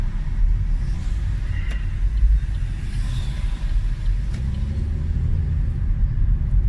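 A 2017 Vauxhall Mokka X SUV with a 1.4 unleaded turbo engine driving along, heard from inside as a steady low road rumble and engine drone with faint clicks and no talk.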